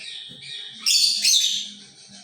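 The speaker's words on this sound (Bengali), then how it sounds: "দেখেন আমাদের পাখিগুলো কি করতেছে।" Pet birds on a balcony give a short burst of bright, high chirps and twitters, close by and fairly loud for about a second before fading.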